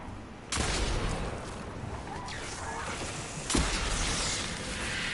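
Heavy hand cannon called Hawkmoon firing in a first-person shooter video game: two loud, booming shots about three seconds apart over dense background game noise.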